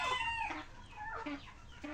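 A rooster in a backyard chicken coop crows loudly and close by, one drawn-out call with harsh, wavering tones and a few clucks, no voices over it.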